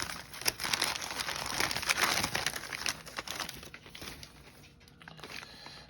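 Crinkly paper wrapping around small pin bundles is unwrapped up close, a busy run of rustling, crackling crinkles that thins out toward the end, with no talking.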